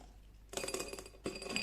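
Glass clinking as water is poured in, two bright ringing taps about three quarters of a second apart over a quiet background.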